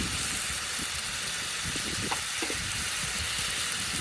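Spice paste of ginger-cumin paste, turmeric, chilli and coriander powders frying in a pan, a soft continuous sizzle and hiss at low level throughout.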